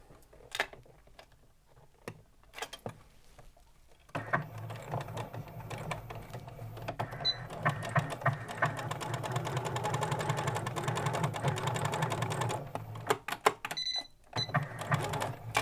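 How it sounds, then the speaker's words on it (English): A sewing machine runs steadily for several seconds between short bursts of stitching, with a couple of faint electronic beeps near the end warning the bobbin is running out. "I know, sewing machine, that my bobbin's running out. It keeps beeping at me."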